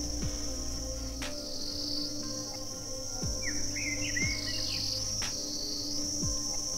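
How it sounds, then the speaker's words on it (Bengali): Wild insects and crickets trill steadily all around a quiet hillside tea garden, a dense continuous buzzing chorus close by, with a few faint bird chirps and brief clicks over it and no talking. "শুনতে পাচ্ছ বোধহয় চারিদিকে বিভিন্ন রকম জংলি পোকার আওয়াজ"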